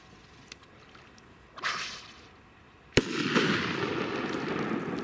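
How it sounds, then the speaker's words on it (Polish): Firecrackers set off outdoors during a casual shooting session, a whooshing launch followed by a single sharp, loud bang with a crackling tail, near and otherwise quiet. "Moje ulubione petardy."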